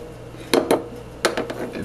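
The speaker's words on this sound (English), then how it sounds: "Give our little marinade a stir." A spoon stirring a pot roast marinade of potatoes and onions in a pot, three or four sharp clinks against the metal in quick succession, close and clear with no talking.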